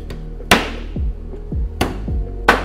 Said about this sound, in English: I'm just gonna see how it does driving it down through the bone